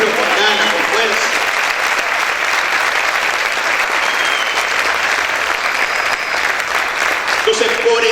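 A church congregation applauds loudly and continuously, a thick, even roar of many hands clapping throughout, with shouting voices blended in.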